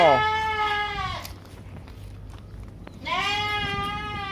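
A goat bleats twice at a goat farm that keeps large show goats. The two loud, close, wavering calls are separated by a short quiet gap.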